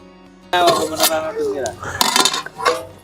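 A metal spoon scrapes and clinks against a cooking pot as rice is stirred up from the bottom, in repeated close, busy strokes, while a voice talks over the mixing.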